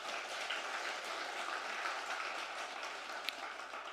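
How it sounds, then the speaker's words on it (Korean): Congregation clapping in praise during a Korean church worship service, a faint, distant, even wash of many hands applauding, sustained steadily for a few seconds. "우리 영광의 박수를 한번 올려드리겠습니다"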